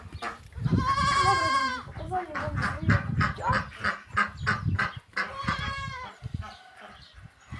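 Goats bleat loudly and repeatedly up close, with geese honking in the mix and a voice talking briefly.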